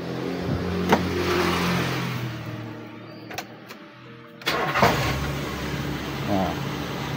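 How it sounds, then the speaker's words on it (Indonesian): Car engine running on petrol, started and revved nearby, rising and falling with a couple of clunks in the middle while someone speaks over it. "sekarang kita hidupkan mesin dalam keadaan normal begini ya"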